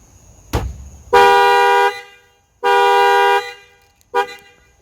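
A 2018 Honda Accord's factory alarm is set off by its shock sensor after the wheel is struck: a sharp thump, then two long, loud horn blasts and a third short honk, close up.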